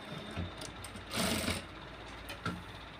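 A sewing machine stitches a blouse with a fast, continuous mechanical whir. It swells louder for about a second in the middle, and brief clicks come before and after.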